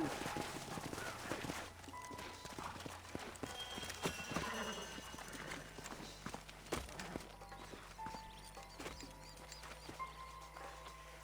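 Horses clip-clopping on hard ground with scattered hoof strikes and a snort or whinny, moderately quiet amid outdoor ambience and faint voices, in the video game Red Dead Redemption 2.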